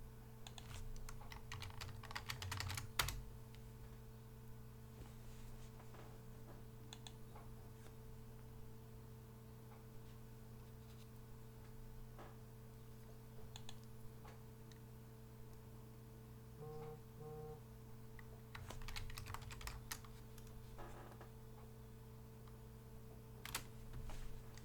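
Typing on a computer keyboard, soft rapid clicking bursts coming and going over a low steady hum, fairly faint and with no talking.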